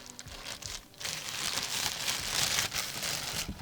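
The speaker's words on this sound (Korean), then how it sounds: "이제 이 비닐도 제거해 주도록 하겠습니다" Soft, continuous crinkling of thin plastic wrap being pulled off a boxed YouTube silver play button, close and fairly quiet, with rustling that swells and fades.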